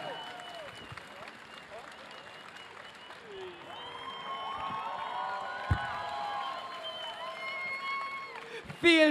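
An anime concert audience claps and cheers for the band, a broad wash of applause with whistles and shouts that swells toward the end, while a voice talks over it.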